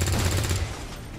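Rapid burst of automatic gunfire from a combat turn in the video game XCOM, dense and loud for about half a second before dropping into a rattling, fading tail with no voices.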